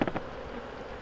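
Honeybees buzzing faintly inside a varroa tester, a thin continuous drone with a few brief louder bursts at the very start.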